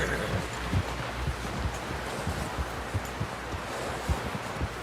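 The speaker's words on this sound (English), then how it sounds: "Someone help John down off this horse" Rhythmic clip-clop of a horse walking in the video game Red Dead Redemption, steady hoofbeats at moderate distance over a bed of wind and rustling ambience, no talking.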